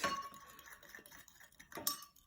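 A metal spoon clinks lightly against a cup while stirring coloured foam for a children's rainbow foam experiment. There are a few faint, close ticks and taps, with a brighter clink at the start and another near the end.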